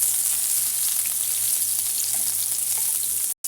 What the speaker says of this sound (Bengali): পেঁয়াজটা ভালো করে ভাজবো।